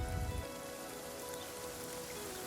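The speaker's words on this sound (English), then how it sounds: "I'm in that drizzly rain again, and it's apparently like this most of the day." Steady drizzly rain falling on surfaces outdoors on a hill trail in mid Wales, a constant soft hiss with a brief low rumble at the start and no talking.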